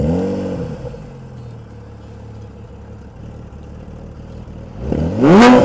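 A Porsche GT3 sports car engine settles from a rev into a rough, steady idle, then roars up sharply in a loud, rising rev at the end.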